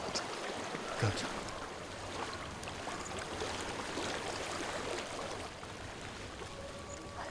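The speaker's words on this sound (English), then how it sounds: "I hear water." Flowing water in the video game Hellblade: Senua's Sacrifice, a continuous soft stream murmur with faint trickles, steady and moderately distant, with no talk over it.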